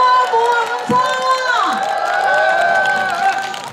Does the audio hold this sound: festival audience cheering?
yes